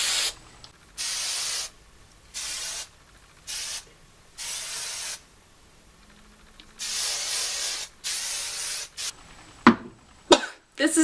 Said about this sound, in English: we're just going to hairspray them up.